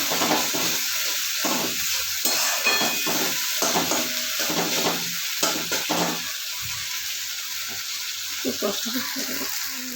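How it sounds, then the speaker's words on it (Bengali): Masala for duck egg curry, made without ginger or garlic, sizzles in a pan while a spatula scrapes through it in repeated rhythmic strokes, loud and close. "এবার একটু কষিয়ে নেবো এটা দিয়ে ভালো করে।"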